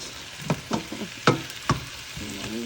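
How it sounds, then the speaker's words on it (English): Seasoning with Scotch bonnet pepper sautés in a pan as a soft background sizzle, punctuated by several sharp utensil taps and scrapes spaced irregularly, with a faint tonal rattle at the end; no voices. "Move that to saute a little bit."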